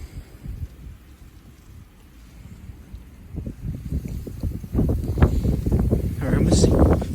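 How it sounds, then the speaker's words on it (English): Strong wind gusting outside at night during a February snowstorm, a rough low roar buffeting the microphone that builds louder toward the end, with a person talking over it. "It's so windy."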